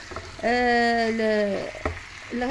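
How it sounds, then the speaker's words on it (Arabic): Parsley fries in a hot pan, giving a steady close sizzle that is stirred now and then. A voice with a sung, tonal quality rises over it for a moment. "القليل من المعدنوس ونخليهم يتقلاو مليح"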